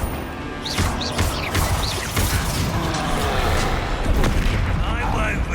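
Bombarda blasting spell in the Hogwarts Legacy game: loud booming impacts and crashing debris over a dense roar of combat effects, several bursts in quick succession.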